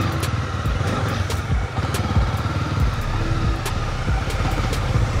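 Honda CB300R motorcycle, a roughly 31 horsepower engine, revving as it climbs a curb in city streets; a steady, loud, close engine drone with low rumble runs throughout, with no talking.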